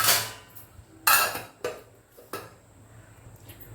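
A lid set down over a bowl of kara bonda snack ingredients in a home kitchen gives a few sharp metallic clinks and clatters, close and spaced apart with quiet between them.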